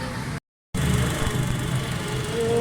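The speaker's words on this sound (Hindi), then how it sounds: "गाड़ी स्टार्ट है" A 2009 Honda City's engine runs close by after starting, a steady low idle hum with a faint higher whine, broken by one short gap of silence near the start.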